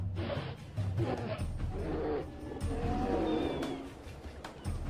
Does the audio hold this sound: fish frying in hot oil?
no